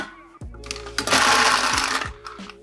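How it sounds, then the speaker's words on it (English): Cocktail shaker with ice being shaken for a whisky sour, a loud continuous rattling burst of ice against metal lasting over a second, preceded and followed by brief clinks and handling noises. "And give it a second shake."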